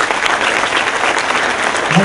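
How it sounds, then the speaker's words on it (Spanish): An audience at a certification demonstration breaks into dense, steady applause, with many hands clapping together at an even loudness throughout. "Un fuerte aplauso para ella."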